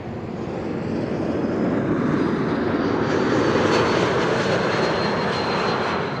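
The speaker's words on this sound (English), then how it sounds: "EasyJet A320neo arriving from Bristol behind it." An EasyJet A320neo airliner arriving at Amsterdam Schiphol passes with a loud, steady jet-engine roar that builds slightly mid-way and holds, with no voices.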